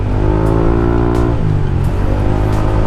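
A Yamaha NMAX V2 scooter with a JPT exhaust idles loudly up close, its exhaust rumbling and blipping steadily with a brief rev dip midway.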